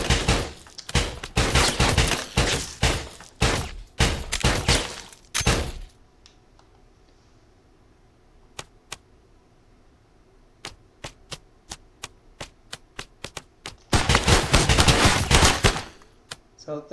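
Custom guns in a VR shooter game firing in rapid bursts, with dense volleys at the start, scattered single shots through the middle and another heavy burst near the end.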